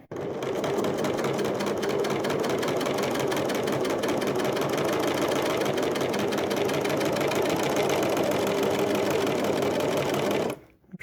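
A serger overlocker stitches and gathers fabric in one continuous, loud, rapid mechanical whir that stops abruptly at the end.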